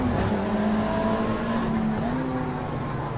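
A Mitsubishi stock car in the racing game Stock Car Extreme, driven at the Velo Città circuit, gives a steady, droning engine note that climbs slightly as the throttle opens, loud and continuous throughout.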